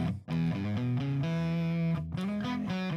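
An electric guitar plays a short melodic phrase through an engaged distortion effect, loud, buzzy and sustained with clear note changes, no voices.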